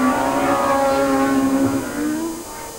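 Historic Formula 1 race cars, including a Tyrrell, racing at the Magny-Cours circuit, with a steady loud engine drone rising in pitch as a car accelerates, then easing slightly as it passes into the distance.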